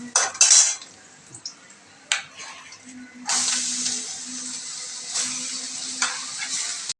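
Bottle gourd tipped into a frying pan with fried lentil dumplings is stirred with a metal utensil: scraping clinks and knocks over a soft ongoing sizzle, close and fairly quiet.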